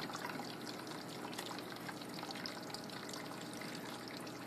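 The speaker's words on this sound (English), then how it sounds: "We have a nice rain chamber. Lots of moving water in there." Water spraying and trickling continuously inside a terrarium rain chamber, a dense, even hiss of falling drops, fairly faint and steady without talking.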